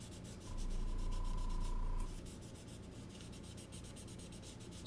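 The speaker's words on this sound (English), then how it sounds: "nice little scuffing here in the back" The hood of a scale model car gets a quiet, close scuff, a soft abrasive rubbing that holds steady for about a second and a half and then fades to a faint background hiss, with no talking.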